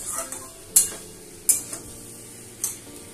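Spice paste with red chilli powder is stirred in a hot pan, a spoon clinking and scraping against the metal every second or so over a faint steady sizzle, with no talking.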